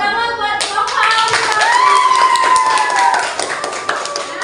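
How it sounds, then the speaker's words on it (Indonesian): Classroom audience claps for a presenter during a teaching session, brisk hand clapping mixed with a voice speaking over it, close and fairly loud throughout. "Tepuk tangan buat Bapak."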